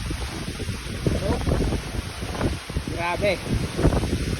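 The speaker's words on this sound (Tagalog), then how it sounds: "Ang lakas ng hangin mga buddy." Strong Typhoon Marce winds gust through a chili garden, a constant rushing roar close to the microphone while someone speaks over it.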